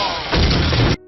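A bomb strapped to a man's body detonates in a dramatized story scene, a single loud, broad blast roaring for about a second before cutting off abruptly into a faint low hum.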